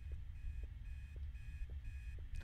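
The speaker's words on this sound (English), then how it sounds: "We got alarm clocks" An in-game alarm clock in Obsideo rings in steady repeated electronic beeps, about two per second, moderately loud over a low rumbling background with no voices.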